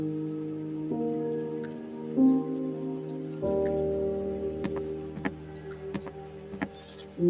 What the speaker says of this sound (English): The rain will not stop.